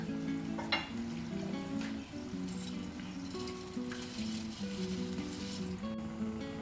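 Water boils in a pot set up for rice while cooking fried chicken biryani, giving a steady close hiss and bubbling that runs throughout, with a few faint clinks.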